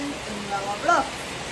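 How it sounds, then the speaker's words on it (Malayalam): Heavy rain falls in a steady, dense wash of hiss throughout, with a brief faint voice rising over it near the middle. "ബിക്കോസ് ഇവിടെ നല്ല മഴയാണ്"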